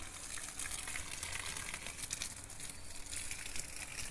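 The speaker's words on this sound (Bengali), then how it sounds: "আমরা যে গাছটিতে জল দিচ্ছি" Water splashing and gushing onto garden plants, including a purple-flowered bougainvillea, during summer heat watering; a steady, moderately close hiss and patter runs throughout with no talking.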